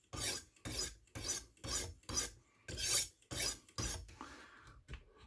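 A knife is drawn across a sharpening stone in about nine even, separate rasping strokes, close and clear, with short pauses between them and no voices.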